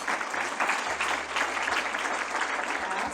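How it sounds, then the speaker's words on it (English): An audience at a health-center anniversary event claps for elected officials, a dense, even burst of applause that fills the room for about three seconds. "Let's give them a round of applause,"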